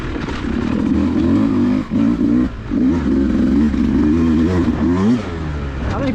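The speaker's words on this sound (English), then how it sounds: "if you like a revvy 2-stroke, holy crap, this is it" A 2024 Beta 2-stroke dirt bike engine revs hard and close, its buzzy, rapid-firing note climbing and falling through quick throttle blips in 3rd gear.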